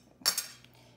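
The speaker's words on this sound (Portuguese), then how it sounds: "A gente vai quebrar o ovo." An egg is cracked for pancake batter, a single sharp close crack of shell against a hard edge followed by a quieter second tap, then near silence.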